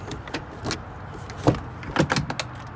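A Peterbilt truck door opens with a few clunks and latch clicks, close and moderately loud, with faint handling noise around it.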